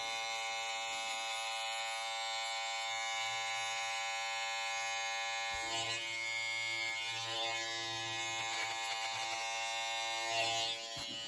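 An Andis electric hair clipper trims the back of a boy's neck at home, giving a steady, fairly quiet electric buzz with faint scraping texture as the blades move through hair.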